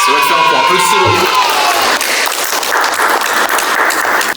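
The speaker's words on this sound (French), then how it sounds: "Applaudissez-le." Loud applause and cheering from a crowd, continuous dense clapping with excited shouts and whoops mixed in.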